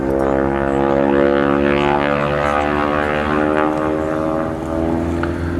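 Harvard propeller trainer aircraft from a classic warbird airshow, its radial engine droning loud and steady with a deep harmonic hum throughout, close and continuous with no pauses.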